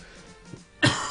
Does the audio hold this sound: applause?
no